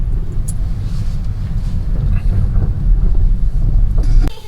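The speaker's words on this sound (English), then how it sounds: "Going to park over here where the cars are parked in the shade." A car driven slowly into a shaded parking spot, low engine rumble and road noise with some wind buffeting, steady and close, ending in a sharp click.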